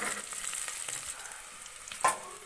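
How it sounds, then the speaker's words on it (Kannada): Green chillies fry in hot oil for ghee rice, giving a steady close sizzle with faint stirring scrapes and one brief louder clink near the end. "ಇದನ್ನು ಕೂಡ ಚೆನ್ನಾಗಿ ಎಲ್ಲನೂ ಫ್ರೈ ಮಾಡ್ಕೊತಾ ಇದ್ದೀನಿ"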